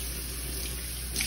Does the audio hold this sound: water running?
yes